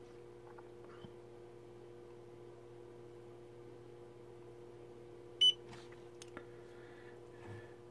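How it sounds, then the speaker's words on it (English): TopSky Prime 1s FPV goggles give a single short, clear electronic beep on power-up, set against a quiet steady hum with a few faint clicks before and after. "it'll also beep when it turns on"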